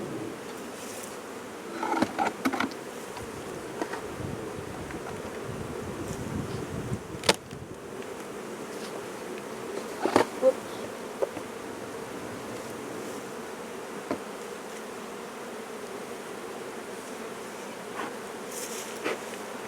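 Honey bees buzzing around an opened beehive, a steady close drone throughout with occasional rustles and knocks from handling of the hive.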